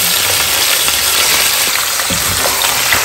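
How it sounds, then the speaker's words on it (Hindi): Lamb shanks sear on high heat in hot ghee, giving a loud, steady, dense sizzle and crackle with a few soft clinks and stirring sounds, and no voices. "we're gonna sear the lamb shanks"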